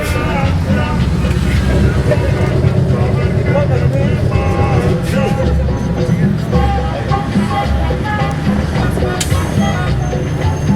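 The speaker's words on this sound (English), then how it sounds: "Big sounds from the bus." Bus engine roar and city traffic heard from inside a moving bus on the way to the pyramids, a loud, constant rumble with rattles, under people talking.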